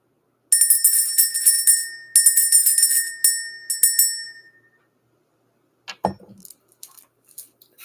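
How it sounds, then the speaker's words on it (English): A small spiritual bell rung to clear energy sounds several bright, sustained metallic strikes in quick bursts, each ringing out and fading, followed by silence and a few soft handling knocks. "Let's go ahead and ring this bell."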